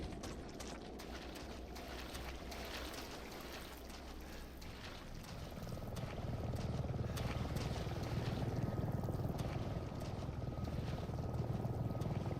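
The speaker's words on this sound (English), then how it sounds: "Helicopter." Helicopter in the Resident Evil 7 video game, a steady rotor drone that grows louder and fuller midway through and continues alone with no talk.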